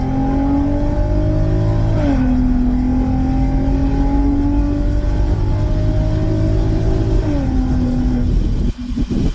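An Audi TT engine with a larger exhaust pipe revs steadily with a deep droning exhaust, pitch stepping up and easing back, loud and close, no talking.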